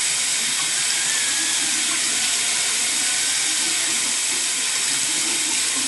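Water runs steadily from a tap during washing with black soap, a constant close hiss of spray and splashing with no pauses and no voices.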